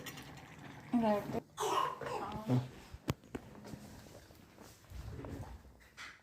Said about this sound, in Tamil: நல்லா தூங்கும்போது இருமல் வருது